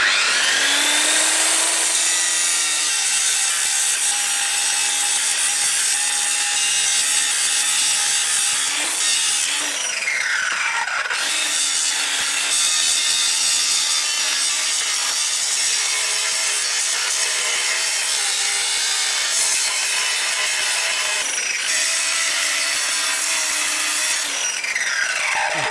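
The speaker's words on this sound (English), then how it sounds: "It's a cutting disc suitable for grinding." An angle grinder fitted with a cutting disc grinds into a metal post leg vice, a loud continuous whine running almost the whole time, with a few dips in pitch as the disc bites and eases off.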